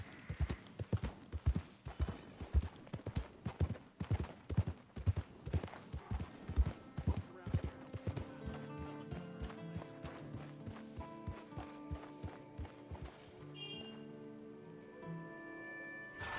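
In Red Dead Redemption 2, horse hooves clip-clop in a steady, evenly spaced rhythm of sharp, close thuds. The steps fade as a soft instrumental music bed rises and takes over near the end.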